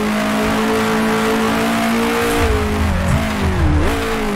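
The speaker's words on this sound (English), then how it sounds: "Try not to break something myself with over revving." A 1966 Formula One car engine in the Grand Prix Legends racing game, at the German Grand Prix, gives a loud, sustained, high-pitched drone that holds steady and then dips and climbs as the revs change. No voices are heard.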